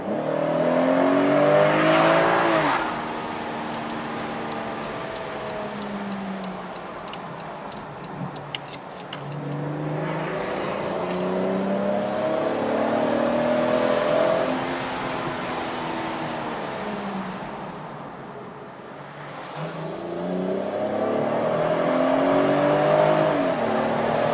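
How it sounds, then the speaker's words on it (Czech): A 2019 BMW 440i Cabrio's six-cylinder engine revs and accelerates repeatedly in sport mode in strong surges, rising through the gears with a deep throaty tone, loud and close, no talking. "na konci obce zrychlení, takhle na sportovní režim"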